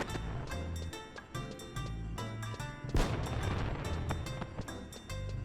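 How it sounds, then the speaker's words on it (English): Fireworks pop and boom repeatedly in the Final Fantasy XI video game, the bursts scattered irregularly over steady looping background music, with one heavier blast standing out. "I am already sick of these freaking fireworks."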